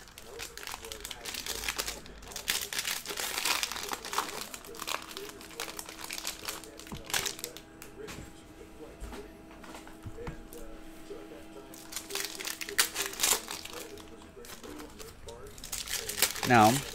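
Panini Prizm 2019-20 basketball card pack wrappers being torn open and crinkled, with close, continuous crackling and crumpling foil sounds in irregular bursts over roughly seventeen seconds.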